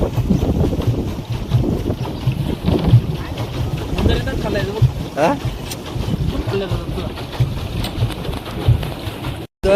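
A pedal boat being pedalled across the water on a boating ride, with a continuous churn of water and wind buffeting the microphone, while people talk nearby and birds call faintly.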